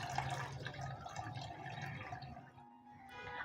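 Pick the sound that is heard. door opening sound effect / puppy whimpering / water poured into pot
water poured into pot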